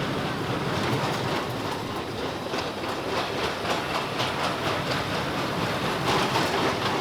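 The Tidal Twister roller coaster runs at a theme park, a continuous loud rumbling clatter of wheels on track with rhythmic clicking and rattling, heard alone without talk.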